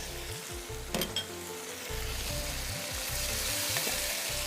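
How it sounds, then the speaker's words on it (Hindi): Spice masala mixed with yogurt fries in a hot pan for Kashmiri chai, a steady loud sizzle with stirring scrapes and a couple of sharp utensil clinks, no voices. "अब मसाले को भून लेते हैं।"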